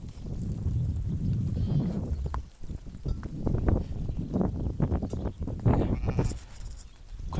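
Sheep bleat repeatedly at close range just after shearing, with overlapping calls from a flock and faint background activity throughout.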